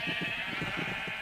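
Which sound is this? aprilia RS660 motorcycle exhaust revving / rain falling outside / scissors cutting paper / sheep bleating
sheep bleating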